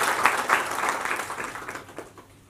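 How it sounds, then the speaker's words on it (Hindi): Loud audience applause welcoming Uttar Pradesh minority affairs minister Danish Ansari at a public gathering in Andheri East, a dense burst of clapping that starts strong and gradually thins and fades over a couple of seconds. "एक बार जोरदार तालियां"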